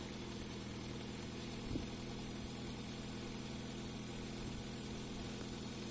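A Ford Mondeo Mk4 2.0 TDCi diesel engine idles steadily after starting, a low even rumble heard close and fairly quiet, with no talking.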